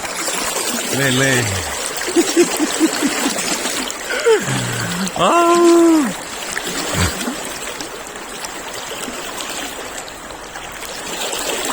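Fast water rushes in the Treska river below an opened dam, a continuous near roar of flow with splashes under excited talking voices.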